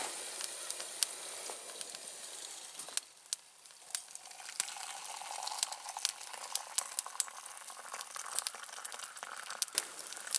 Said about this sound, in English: Those twig stoves don't need a whole lot of firewood to boil some water.